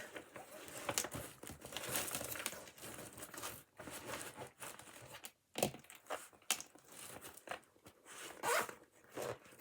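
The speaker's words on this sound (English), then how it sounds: "Oh, don't want to get the material caught in the zip." A zip on a tote bag is pulled closed in several short, scratchy bursts, close and fairly quiet, mixed with fabric crinkling and handling noises.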